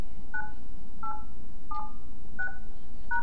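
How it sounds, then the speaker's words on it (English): Five evenly spaced telephone keypad DTMF beeps sound as a voicemail password is entered on a Polycom VoIP phone, each tone short and clear over a low steady hiss. "Please enter your new password followed by the pound key"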